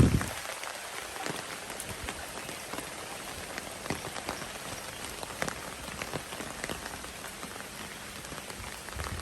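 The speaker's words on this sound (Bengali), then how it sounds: "বৃষ্টি পড়তেই আছে।" Steady rain falls on a rooftop garden, a dense, even patter of drops hitting surfaces nearby, moderately loud and continuous with no voices.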